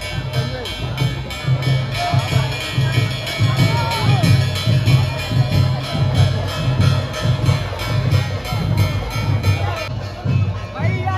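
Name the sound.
crowd at a temple fair procession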